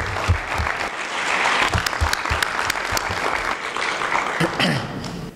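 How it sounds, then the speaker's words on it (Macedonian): An audience at a talk in Skopje breaks into sustained applause, a dense, steady wash of many hands clapping that carries on for several seconds before easing off. "И тоа стварно заслужува еден аплауз"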